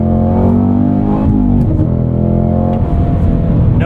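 A 2024 Cadillac CT5-V Blackwing engine revs hard and close up through a no-lift gear shift, with the pitch dipping briefly and then climbing again.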